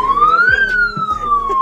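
A loud ambulance siren wails steadily close by, its tone sweeping up and then slowly down, with traffic noise underneath.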